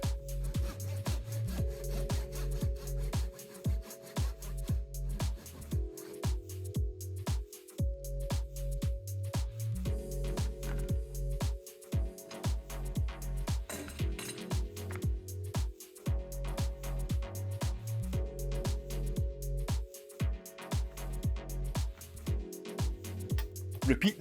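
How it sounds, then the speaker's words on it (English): A hand saw cuts through wood for a half-lap joint in steady back-and-forth strokes, rhythmic and close, with a low humming tone running underneath. "then saw down half the thickness of the wood"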